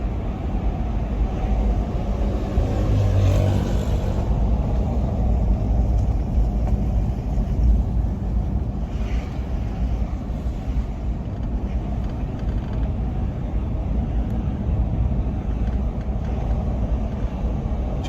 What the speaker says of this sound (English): Try my best not to drive too fast. Currently going 40 kilometers per hour.